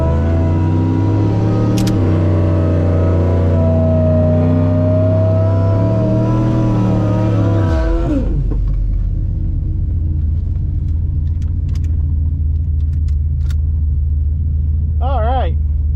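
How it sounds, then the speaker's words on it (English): Drag car at the strip, its engine roaring loud and close with a strained, held note and a brief rise before cutting sharply to a low rumbling idle, while a voice talks over it. "Almost time for a burnout."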